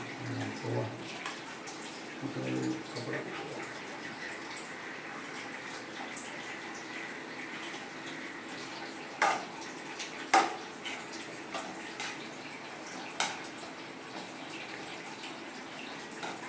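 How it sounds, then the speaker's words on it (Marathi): Water runs steadily from a tap in a soft continuous hiss, with occasional clinks and faint voices in the background. "तिकडे पाण्याचा नळ चालू आहे."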